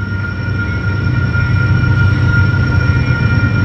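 Freight train rolling past in a Mexican border city, a steady loud rumble with a low mechanical drone and a faint high whine, continuous throughout with no talk.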